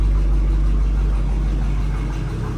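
A 1979 Oldsmobile Cutlass Supreme with a low-mileage original engine idles while warming up, a loud, close, steady low rumble with an even throb and no voices.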